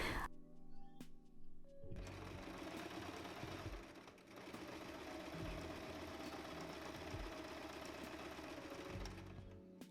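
A sewing machine stitches a trouser pocket. It whirs briefly, pauses, then runs in a long steady burst of rapid mechanical stitching with a short break midway, close and clear.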